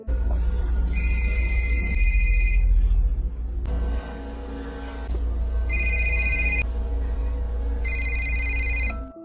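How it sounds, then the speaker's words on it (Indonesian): A mobile phone ringtone sounds from a bedroom in repeated bursts of bright electronic tones, separated by pauses, over a low steady rumble of music and background noise. "tak lama malah terdengar suara ringtone dari kamar tidur kelas"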